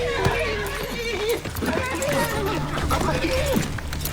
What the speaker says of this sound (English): That's my Uncle Benjamin's horse.